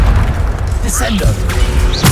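Bombarda blasting spells in Hogwarts Legacy land as a string of booming in-game explosions, with heavy low thuds and bursts packed tightly together across two seconds, loud and continuous.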